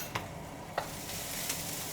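Onions stir-frying in a pan, a quiet steady sizzle with three brief scrapes of a utensil spaced evenly, close but faint, no talking.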